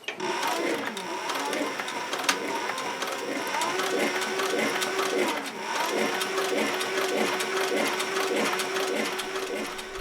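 Sewing machine stitching a leather holster for a Colt Single Action Army revolver, a steady, continuous mechanical whir and rapid ticking that runs throughout at close range.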